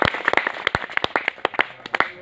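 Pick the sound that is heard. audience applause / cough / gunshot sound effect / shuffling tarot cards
audience applause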